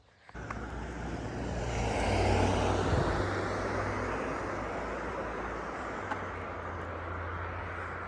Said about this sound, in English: When you hear those cars coming through, this is what you're hearing.